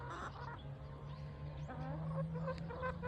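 Chickens on a New Zealand farm cackle and squawk in a busy mix of overlapping calls over a steady low hum, fairly close but not loud.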